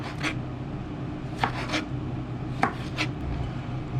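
A knife cuts food into good-sized wedges on a cutting board, giving a few sharp, close chops spaced irregularly over a quiet background, with no talking.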